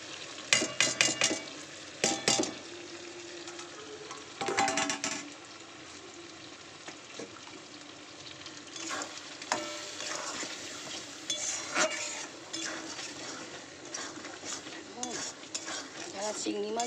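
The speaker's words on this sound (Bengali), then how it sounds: "এবার দিয়ে দেবো ভেজে রাখা চিংড়ি মাছটা।" Fried prawns stirred into a masala in a pan: sizzling frying with scraping and clinking of a utensil against metal, irregular bursts of stirring, close and fairly loud, with no talk.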